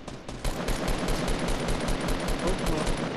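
Dense, continuous rapid gunfire from the video game Fortnite, loud and steady throughout with sharp repeated bursts layered over each other.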